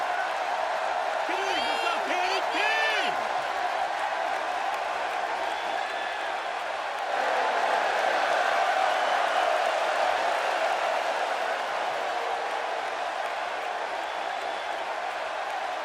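A capacity arena crowd in the WWE 2K16 wrestling game makes a steady, broad roar throughout, swelling slightly midway, with commentary voices over it.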